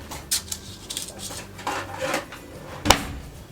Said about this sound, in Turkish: Şimdi kaşıkla bölüştürelim.